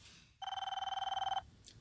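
A desk telephone in a new office rings with a rapid, rattling electronic bell, one sustained ring burst about a second long, loud and close, with no talk over it.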